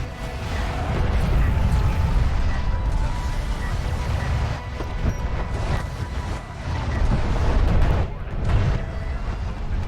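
Artillery fire against a heavily armored carrier in a space strategy game, a dense, continuous rumble of booming impacts with loud swells throughout.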